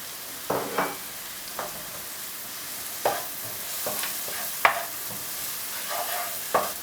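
Onions and celery stalks sweating gently in a pan for mushroom risotto, a soft continuous sizzle broken by intermittent spoon stirs and scrapes, fairly close and with no talking.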